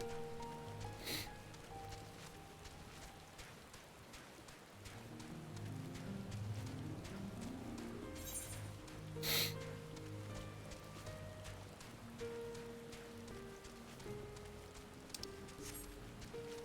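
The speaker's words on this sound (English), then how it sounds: "why is it that it's always raining during my streams?" Rain patters steadily in the Final Fantasy XIV video game, a soft, constant wash, joined by faint clip-clop hoofbeats and game sound effects.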